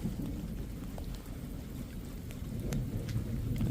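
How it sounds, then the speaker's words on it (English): Steady rain falls through a night-time thunderstorm, a dense low rumble of thunder rolling underneath, with scattered drop impacts crackling on top. The sound holds fairly even throughout and swells slightly toward the end. "Looks like we're in for a thunderstorm"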